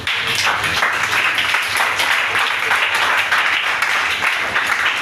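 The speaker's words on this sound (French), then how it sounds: "Acclamons Jésus." A church congregation claps and applauds for Jesus, a dense, steady wash of many hands lasting several seconds without letting up.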